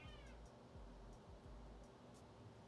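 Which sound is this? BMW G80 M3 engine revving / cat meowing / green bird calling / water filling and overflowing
cat meowing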